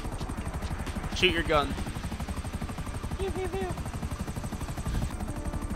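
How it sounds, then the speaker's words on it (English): A helicopter's rotor thumps steadily in GTA Online, beneath game effects and a person talking. "Someone get a helicopter against him?"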